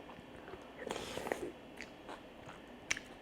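Someone eating white baek kimchi with rice, with soft close biting and chewing sounds and a few small crunches, faint and intermittent against quiet room tone.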